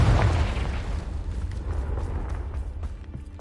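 A Confringo blasting curse explodes in the video game Hogwarts Legacy, a loud low boom at the start that rumbles and decays over a few seconds, with no voices.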